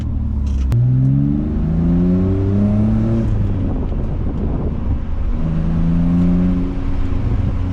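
A BMW E46 engine with its muffler removed revs repeatedly with a loud, raw, rumbling exhaust note, rising and falling in pitch over steady wind noise.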